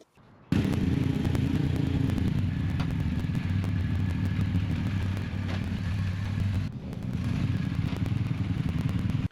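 A motorcycle engine idles and runs steadily after an oil change, a close, continuous mechanical rumble with a brief dip near the end before it resumes.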